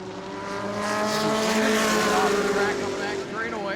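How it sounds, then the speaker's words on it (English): Race cars at speed on an oval dirt track during a Florida Southern Ground Pounders feature race at New Smyrna, a steady loud engine roar with overlapping revving tones from several cars passing close throughout. "Here comes Hank Sanders on the back bumper of the 44 car."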